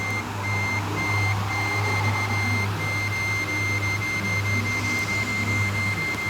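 A truck in a simulator game backs up, giving steady, evenly spaced electronic reversing beeps over a constant low engine drone, with no voices.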